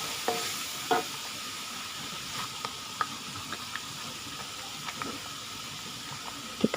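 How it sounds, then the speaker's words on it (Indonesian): A spoon stirs Manado porridge (tinutuan) with spinach in a boiling pot. Soft scrapes and clicks recur irregularly over a constant sizzling hiss of bubbling and steam, heard up close with no talking. "Kita aduk dulu teman-teman."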